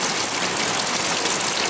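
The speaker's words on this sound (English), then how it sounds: "There, you can see the rain right there, yeah." Rain pours down steadily and densely during a storm over a garden, a constant close hiss of drops hitting surfaces with no pauses.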